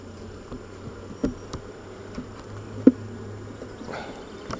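Honeybees drone in an open hive during an inspection, a low, steady buzzing hum held close and fairly quiet, with a few light taps and knocks from handling frames.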